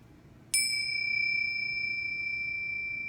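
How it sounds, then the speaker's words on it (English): A single strike of tingsha chimes, small ritual cymbals, rings out bright and clear, then the high pure tones hang and slowly fade in a quiet room. "I also use tingchas, which are a form of chime"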